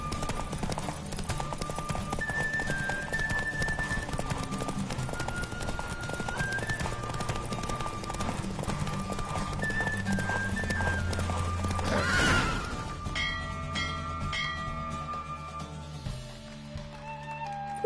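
A horse gallops in a race in the video game The Witcher, with steady, close clip-clop hoofbeats and whinnies running throughout, over a layer of tonal game sound.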